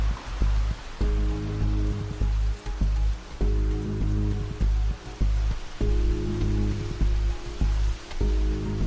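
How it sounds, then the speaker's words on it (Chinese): Heavy rain pours steadily outdoors during a typhoon, a dense constant wash of noise with a low, pulsing tonal drone running beneath it. "这么大雨"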